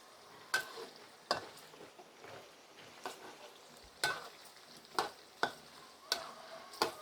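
Sun-dried pork fries quietly in a pan under a soft, faint sizzle, broken by sharp utensil taps and scrapes at irregular intervals.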